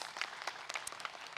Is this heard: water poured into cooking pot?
no